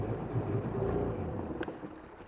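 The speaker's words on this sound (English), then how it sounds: "I'll go to floor it and she'll bog down" A Sea-Doo XP personal watercraft engine drones at a steady low pitch under wind and water noise, then fades and drops away as it bogs down at full throttle.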